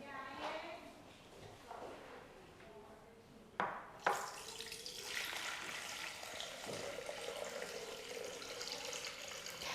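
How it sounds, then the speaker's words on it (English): Water runs into a Thermomix rice basket, a steady close pour of about 1000 ml that begins after a couple of knocks and continues as a rushing stream, with quiet talk earlier. "next we are going to add in 1000 ml of water"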